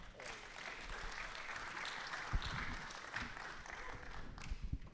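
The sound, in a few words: audience applause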